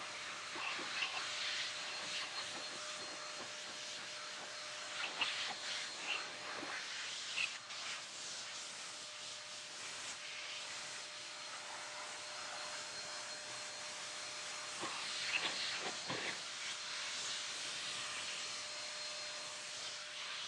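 Tire coating sprayed onto car tires as a final coat, a continuous airy hiss held close and steady with a few brief louder bursts along the way.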